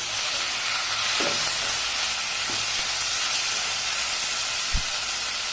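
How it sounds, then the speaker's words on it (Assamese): Chicken and potatoes simmer in a pot with a steady soft hiss of steam and sizzle, while a spoon stirs through them with a few faint scrapes and a small knock near the end. "ঢাকনিখন উঠাই আকৌ এবাৰ মই লৰাই দিছোঁ এনেকৈ"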